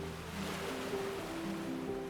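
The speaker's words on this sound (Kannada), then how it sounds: "ನಾವು ಗ್ರೀನ್ ಓಷನ್ ಎಂಬ ಫೆರಿಯಲ್ಲಿ ಸಾಗುತ್ತಿದ್ದೇವೆ." Sea waves washing past the inter-island ferry Green Ocean on open water between Andaman islands, a steady low rushing surge with a faint engine hum beneath, continuous and without voices.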